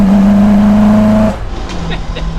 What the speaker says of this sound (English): making a great sound on acceleration